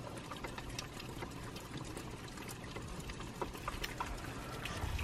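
Rainwater pours and splashes steadily outdoors, a constant gurgling rush with scattered drips, moderately quiet and without voices.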